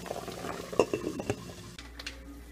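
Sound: spaghetti cooking in a pot

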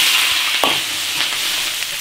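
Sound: stir-frying chili peppers in oil in a wok

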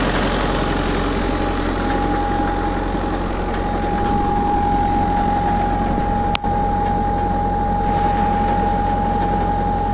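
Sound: 25 kVA generator running a farm water pump motor

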